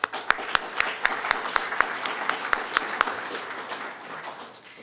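Audience applause at a City Club luncheon in Oregon, with a few distinct loud claps standing out over a lighter spread of clapping from a room of diners, gradually thinning out.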